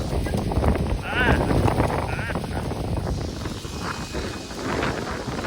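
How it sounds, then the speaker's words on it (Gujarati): Strong wind buffets the microphone in continuous gusts, with a voice speaking faintly underneath the roar. "પવન બહુ છેડ્યો છે"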